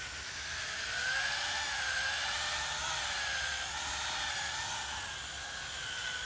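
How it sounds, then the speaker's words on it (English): A drill brush scrubs a sandy car floor mat, giving a steady, loud whirring hum with a slightly wavering pitch that runs unbroken throughout, with no talking. "We're gonna go ahead and do the drill brush all over this entire mat and vacuum it up"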